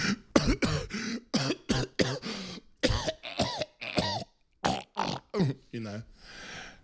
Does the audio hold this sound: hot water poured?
no